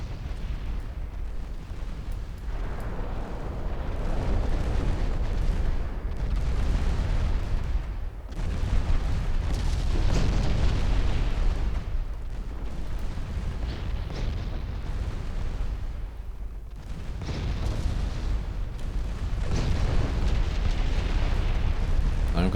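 Warship secondary guns fire repeatedly during a naval battle in the Ultimate Admiral Dreadnoughts game, with heavy rumbling booms and bursts piling up continuously at loud, steady volume.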